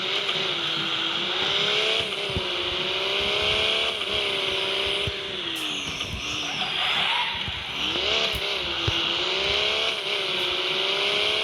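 A Rolls-Royce car drives with a smooth, continuous engine hum whose pitch rises and falls gently as it accelerates and eases off, with faint tyre and road noise underneath and no talking.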